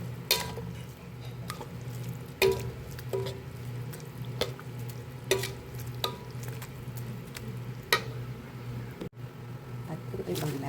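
Ginisang munggo with malunggay leaves being stirred in a pan, steady low simmering bubble with repeated soft wet scrapes and squishes of the spoon at irregular intervals, close up.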